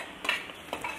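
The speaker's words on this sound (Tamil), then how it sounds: "சட்டி சூடேறினதும் ரெண்டு ஸ்பூன் கடுகு தாளிப்பு, சாப் பண்ணி வச்ச வெங்காயம், இடித்து வச்ச இஞ்சி பூண்டு சேர்த்துக்கலாம்" Mustard seeds, chopped onion and crushed ginger and garlic go into a hot pan for tempering, giving brief close sizzling and stirring scrapes with no talk.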